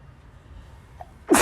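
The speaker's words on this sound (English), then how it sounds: "I've been sneezing a lot" A single sharp, loud sneeze bursts out close to the microphone at the very end, after a quiet room hum.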